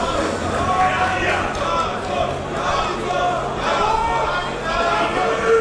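Continuous crowd chatter and excited murmuring in an arena during European junior left-arm wrestling finals, a dense, even roar of many voices with swelling patches.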